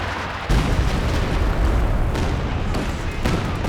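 Loud, dense rocket artillery barrage from a Calliope in the strategy game Company of Heroes 2, rumbling blasts pounding continuously after a sudden onset.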